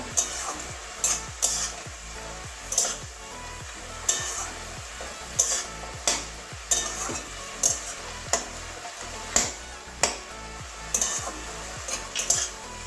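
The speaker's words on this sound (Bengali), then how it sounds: "এই যে ভেজে রাখা বড়িগুলো সব দিয়ে দেবো ভালো করে মিশিয়ে দেবো" Fried lentil dumplings being stirred into frying water spinach, a rhythmic series of spatula scrapes and knocks against the pan about every second over a steady sizzle, close and without talk.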